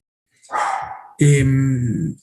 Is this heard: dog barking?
yes